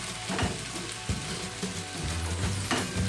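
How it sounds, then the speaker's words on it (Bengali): Capsicum and green chilli frying in a pan, a crackling sizzle with stirring scrapes and clatter of the spatula, close and fairly loud, no talk. "নিয়ে এবার জিনিসটাকে ভালো করে ফ্রাই করে নিতে হবে।"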